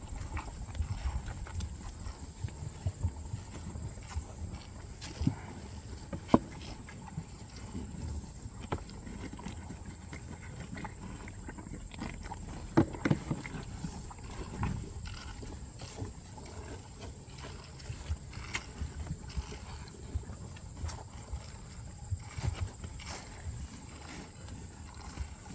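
A flock of sheep mobs a water trough, producing a continuous low shuffle of hooves, knocks and splashy jostling with scattered sharp clatters, moderately close and without voices.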